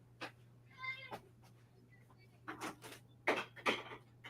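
A cat meows several times close by, a drawn-out cry followed by sharper, louder yowls, with faint talk in the background.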